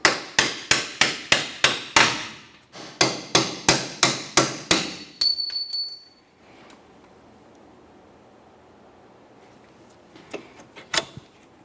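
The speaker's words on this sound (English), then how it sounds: "Let's tap this out of place." A hammer taps a rear shock out of place on a 2007-2017 Jeep Patriot: two quick bursts of about six sharp metallic strikes each, close and loud, then a faint hum and a single late knock.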